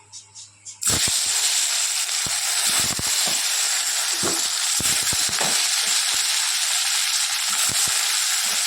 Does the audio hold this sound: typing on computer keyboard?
no